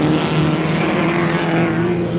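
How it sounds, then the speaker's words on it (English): Racing car engines howl at a small circuit at Lydden Hill in 1971, among them a Ford Escort Mexico with a BDA engine, a loud, steady, droning roar with a strong tonal whine and no break. "Brodie with a BDA engine in that Ford Escort Mexico of his, sees Gerry Marshall right behind him."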